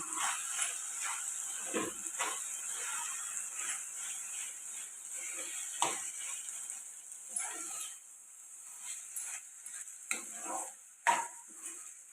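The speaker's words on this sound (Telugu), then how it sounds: "ఇప్పుడు బాగా కలిసేలాగా కలుపుకుందాం" Brinjal dal with cooked lentils being stirred and mixed in a pan, a steady scraping and sloshing of the spoon with a few sharper scrapes, close and moderately loud, with no voices.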